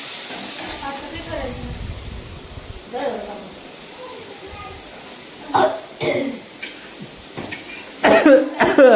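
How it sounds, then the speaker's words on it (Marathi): A person coughs and clears their throat in a home kitchen where chillies are frying, with several harsh bursts near the middle and a cluster at the end, amid background hiss and some talking. "मग काय तुला खोकला चाललाय बाबा"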